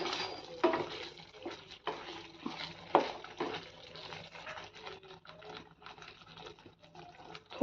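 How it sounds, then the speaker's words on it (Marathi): A spoon stirring garam masala into a simmering egg curry in a pan over low flame, with soft scraping and wet sloshing strokes at an irregular pace, close and fairly quiet. "थोडासा ह्याच्यामध्ये गरम मसाला ॲड करूयात मिक्स करूयात व्यवस्थित"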